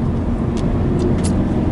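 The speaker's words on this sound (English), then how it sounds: "I'm just going through some twisties now in the wet" A Subaru BRZ drives through wet, twisting roads, heard from inside as a steady low road and engine rumble with tyre hiss, a few brief swishes of spray passing.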